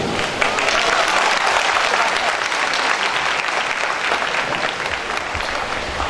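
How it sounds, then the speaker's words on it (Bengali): An indoor audience applauds steadily to welcome a guest, a dense, even wash of many hands clapping that stays loud and close for several seconds without a break. "আমরা তাকে করতালির মাধ্যমে বরণ করে নিচ্ছি"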